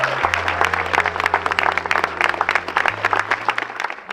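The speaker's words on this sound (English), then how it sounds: "Round of applause for the man." A crowd gathered outdoors for a statue unveiling honoring a football club legend claps enthusiastically, with many sharp, uneven handclaps over a low steady hum.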